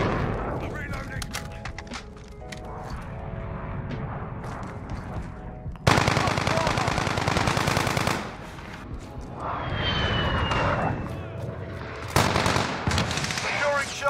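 Automatic gunfire from a VTOL close air support aircraft in Call of Duty Modern Warfare, loud sustained bursts with booming impacts that come and go in waves, mixed with game radio chatter and battle noise.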